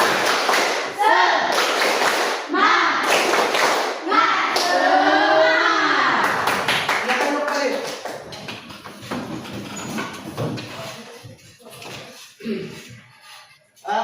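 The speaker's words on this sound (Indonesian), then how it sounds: "Tepuk semangat." A standing group of schoolchildren performs a rhythmic spirit clap during a classroom icebreaker, loud and close, with bursts of claps mixed with children's chanting and voices, fading toward the end.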